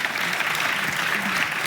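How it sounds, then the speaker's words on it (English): Brief stretch of steady audience applause for conference panelists at an anti-corruption session, even dense clapping at moderate volume. "could we give a round of applause to our panelists?"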